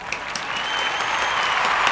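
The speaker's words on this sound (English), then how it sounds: "So let's give a hand clap to the wig." A short burst of clapping, a few hands applauding together in a steady patter for a moment, no voices over it.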